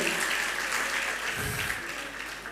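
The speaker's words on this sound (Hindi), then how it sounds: "ताली तो बजाइए" An audience at a religious question-and-answer gathering claps steadily for a lyricist, a dense, even wash of applause lasting the whole moment with no voices over it.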